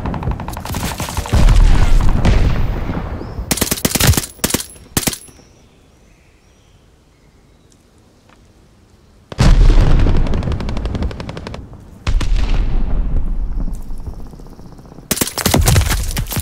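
Call of Duty Vanguard gunfire on PC: loud, close bursts of automatic weapon fire come in several separate volleys, broken by quiet gaps of a few seconds between them.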